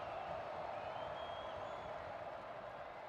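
Football stadium crowd at a Coastal Carolina at Appalachian State college game roaring on third down, a sustained, distant wash of cheering and noise that stays steady and fairly faint.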